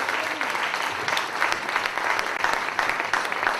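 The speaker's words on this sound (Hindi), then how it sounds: "ताली की गड़गड़ाहट को लंबी ताली दें।" Long, dense roar of audience clapping at a speech gathering, sustained and fairly loud throughout with a few voices faintly mixed in.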